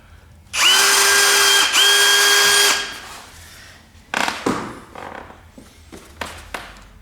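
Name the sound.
cordless drill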